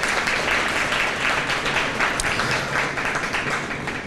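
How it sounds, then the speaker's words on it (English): A round of applause from a luncheon audience at a county program, dense and loud clapping filling the room evenly, easing slightly toward the end. "Yes, a round of applause."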